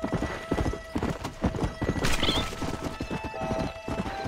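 Horse hooves clip-clop steadily in Red Dead Redemption, with a brief whinny partway through, close and fairly loud over a background game score.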